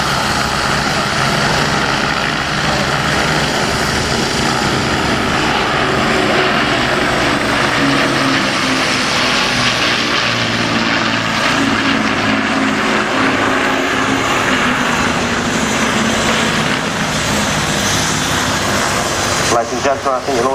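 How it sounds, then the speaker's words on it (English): A Lancaster bomber makes a low pass at an RAF air show with two fighter aircraft trailing it, a loud sustained propeller-engine drone that swells and shifts pitch, with an announcer talking over it. "the Lancaster coming in for the bomber pass with the 2 fighters trailing it"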